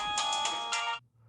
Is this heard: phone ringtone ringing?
yes